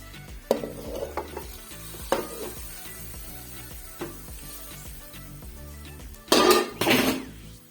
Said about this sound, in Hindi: अब मैं यहाँ डालेंगे तड़का। तड़का लगाएंगे इसको।